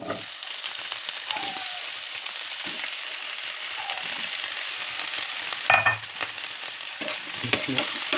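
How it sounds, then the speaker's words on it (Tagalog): Potato frying in a pan with browned garlic gives a continuous soft sizzle, with a few louder bursts of stirring and scraping near the end. "So let's stir it. And so stir and put the potato."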